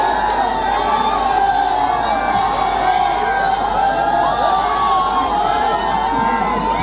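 A dense crowd of young people at a political gathering for Pawan Singh in Karakat cheers and shouts continuously, loud and sustained, with scattered whoops and indistinct voices.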